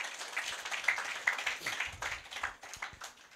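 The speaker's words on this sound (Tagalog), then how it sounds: "Pinakamalakas pong palakpak sa Panginoon" A church congregation claps during a sermon, the applause faint and somewhat distant, with scattered individual claps standing out over a soft, uneven patter.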